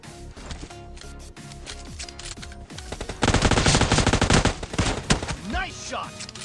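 Gunfire in a warehouse fight video game, starting with scattered quick shots over background game sound and then turning into a loud, dense burst of rapid fire around the middle of the clip.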